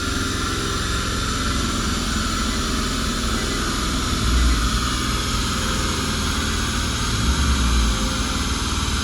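A Nissan Cube tuned to about 400 horsepower runs on a dyno, making a steady, loud, continuous engine drone with slight swells in level and no speech.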